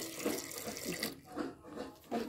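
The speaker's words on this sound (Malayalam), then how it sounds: "അപ്പോൾ അതിലേക്ക് വേവിക്കാൻ വേണ്ടിയിട്ട് കുറച്ച് വെള്ളം ഒഴിക്കാം." Water splashes and gurgles into a cooking pot holding yam, a close, uneven pouring with short bursts and pauses.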